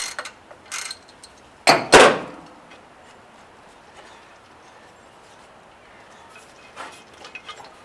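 A ratchet loosens engine accessory bolts on a Pontiac LeMans, a few close clicking bursts near the start with one louder clatter, then faint scattered clicks in a quiet garage.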